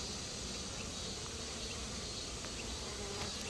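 Dense, steady buzzing of many honey bees clustered in a hive close by, a continuous swarm drone with no talking.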